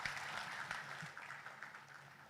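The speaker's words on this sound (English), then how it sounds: "Our big round of applause, please." Faint, distant audience applause at a port launching ceremony, a soft steady patter of many hands lasting a couple of seconds.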